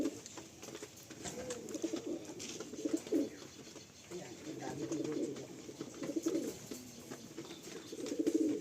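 Pigeons kept for sale coo in soft, repeated rolling bursts, several birds close by with a faint background hum and occasional distant voices.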